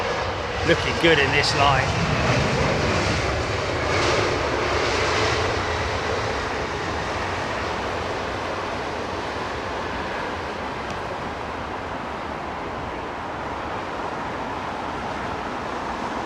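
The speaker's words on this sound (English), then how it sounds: "Oh, hello, look at this. Egypt Air 320 Neo." EgyptAir Airbus A320neo arriving on runway 27R at London Heathrow, a steady jet engine rumble with a brief whine early on, then an even roar as it passes; a voice speaks briefly over it.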